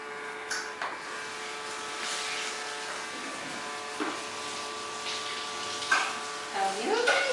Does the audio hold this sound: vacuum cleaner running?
yes